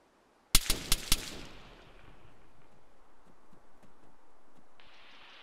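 A quick burst of four or five loud gunshots crack close by in rapid succession, then a long echoing rumble fades into faint outdoor background noise, with no talking.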